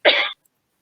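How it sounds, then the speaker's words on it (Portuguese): A single short cough burst, loud and close, from someone speaking during an online talk, dry and isolated with silence after. "ela teve ali um acesso de tosse"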